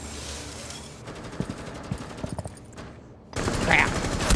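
Automatic weapon fire in the video game Rainbow Six Siege, rapid rattling bursts of shots mixed with game sounds and a louder noisy stretch near the end.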